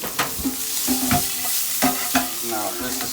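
Eggs frying in a pan, with several quick spatula taps and scrapes as one is flipped, over a loud continuous sizzle.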